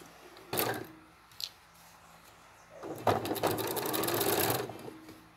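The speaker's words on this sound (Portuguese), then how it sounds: "vai fazer uma costura de um pé de máquina" A sewing machine runs a presser-foot-width seam along a marked line on binding for a Christmas project, with a short burst of stitching, a click, then a longer steady run close by.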